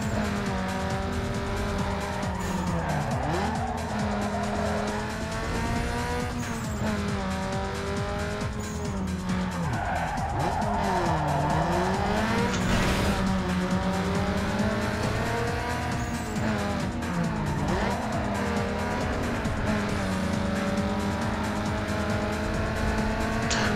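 Race cars roar through a night street race in Need for Speed Underground 2, a Nissan 240SX chasing an Acura RSX, with steady loud engine drone, rising and falling revs and repeated tire squeals throughout, no voices.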